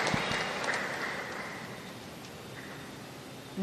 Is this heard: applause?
yes